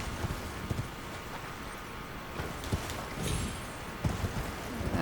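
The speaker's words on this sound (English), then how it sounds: "Let's get back on the horse while I'm healing." Horse hooves thud in an irregular galloping rhythm in the Elden Ring video game, with clip-clop beats over a constant outdoor ambience and a few louder hoof strikes.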